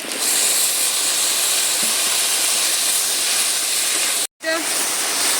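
Chopped young taro hits ginger-garlic spice paste sizzling in a pan. A loud, steady hiss of frying fills the whole stretch, broken by one brief silence near the end.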